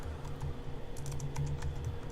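Quick, light keystrokes on a computer keyboard as a Rails console command is typed, a short rapid run of close, soft clicks over a low hum.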